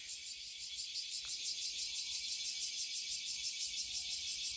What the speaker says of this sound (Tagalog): May mga umiiyak na kuliglig.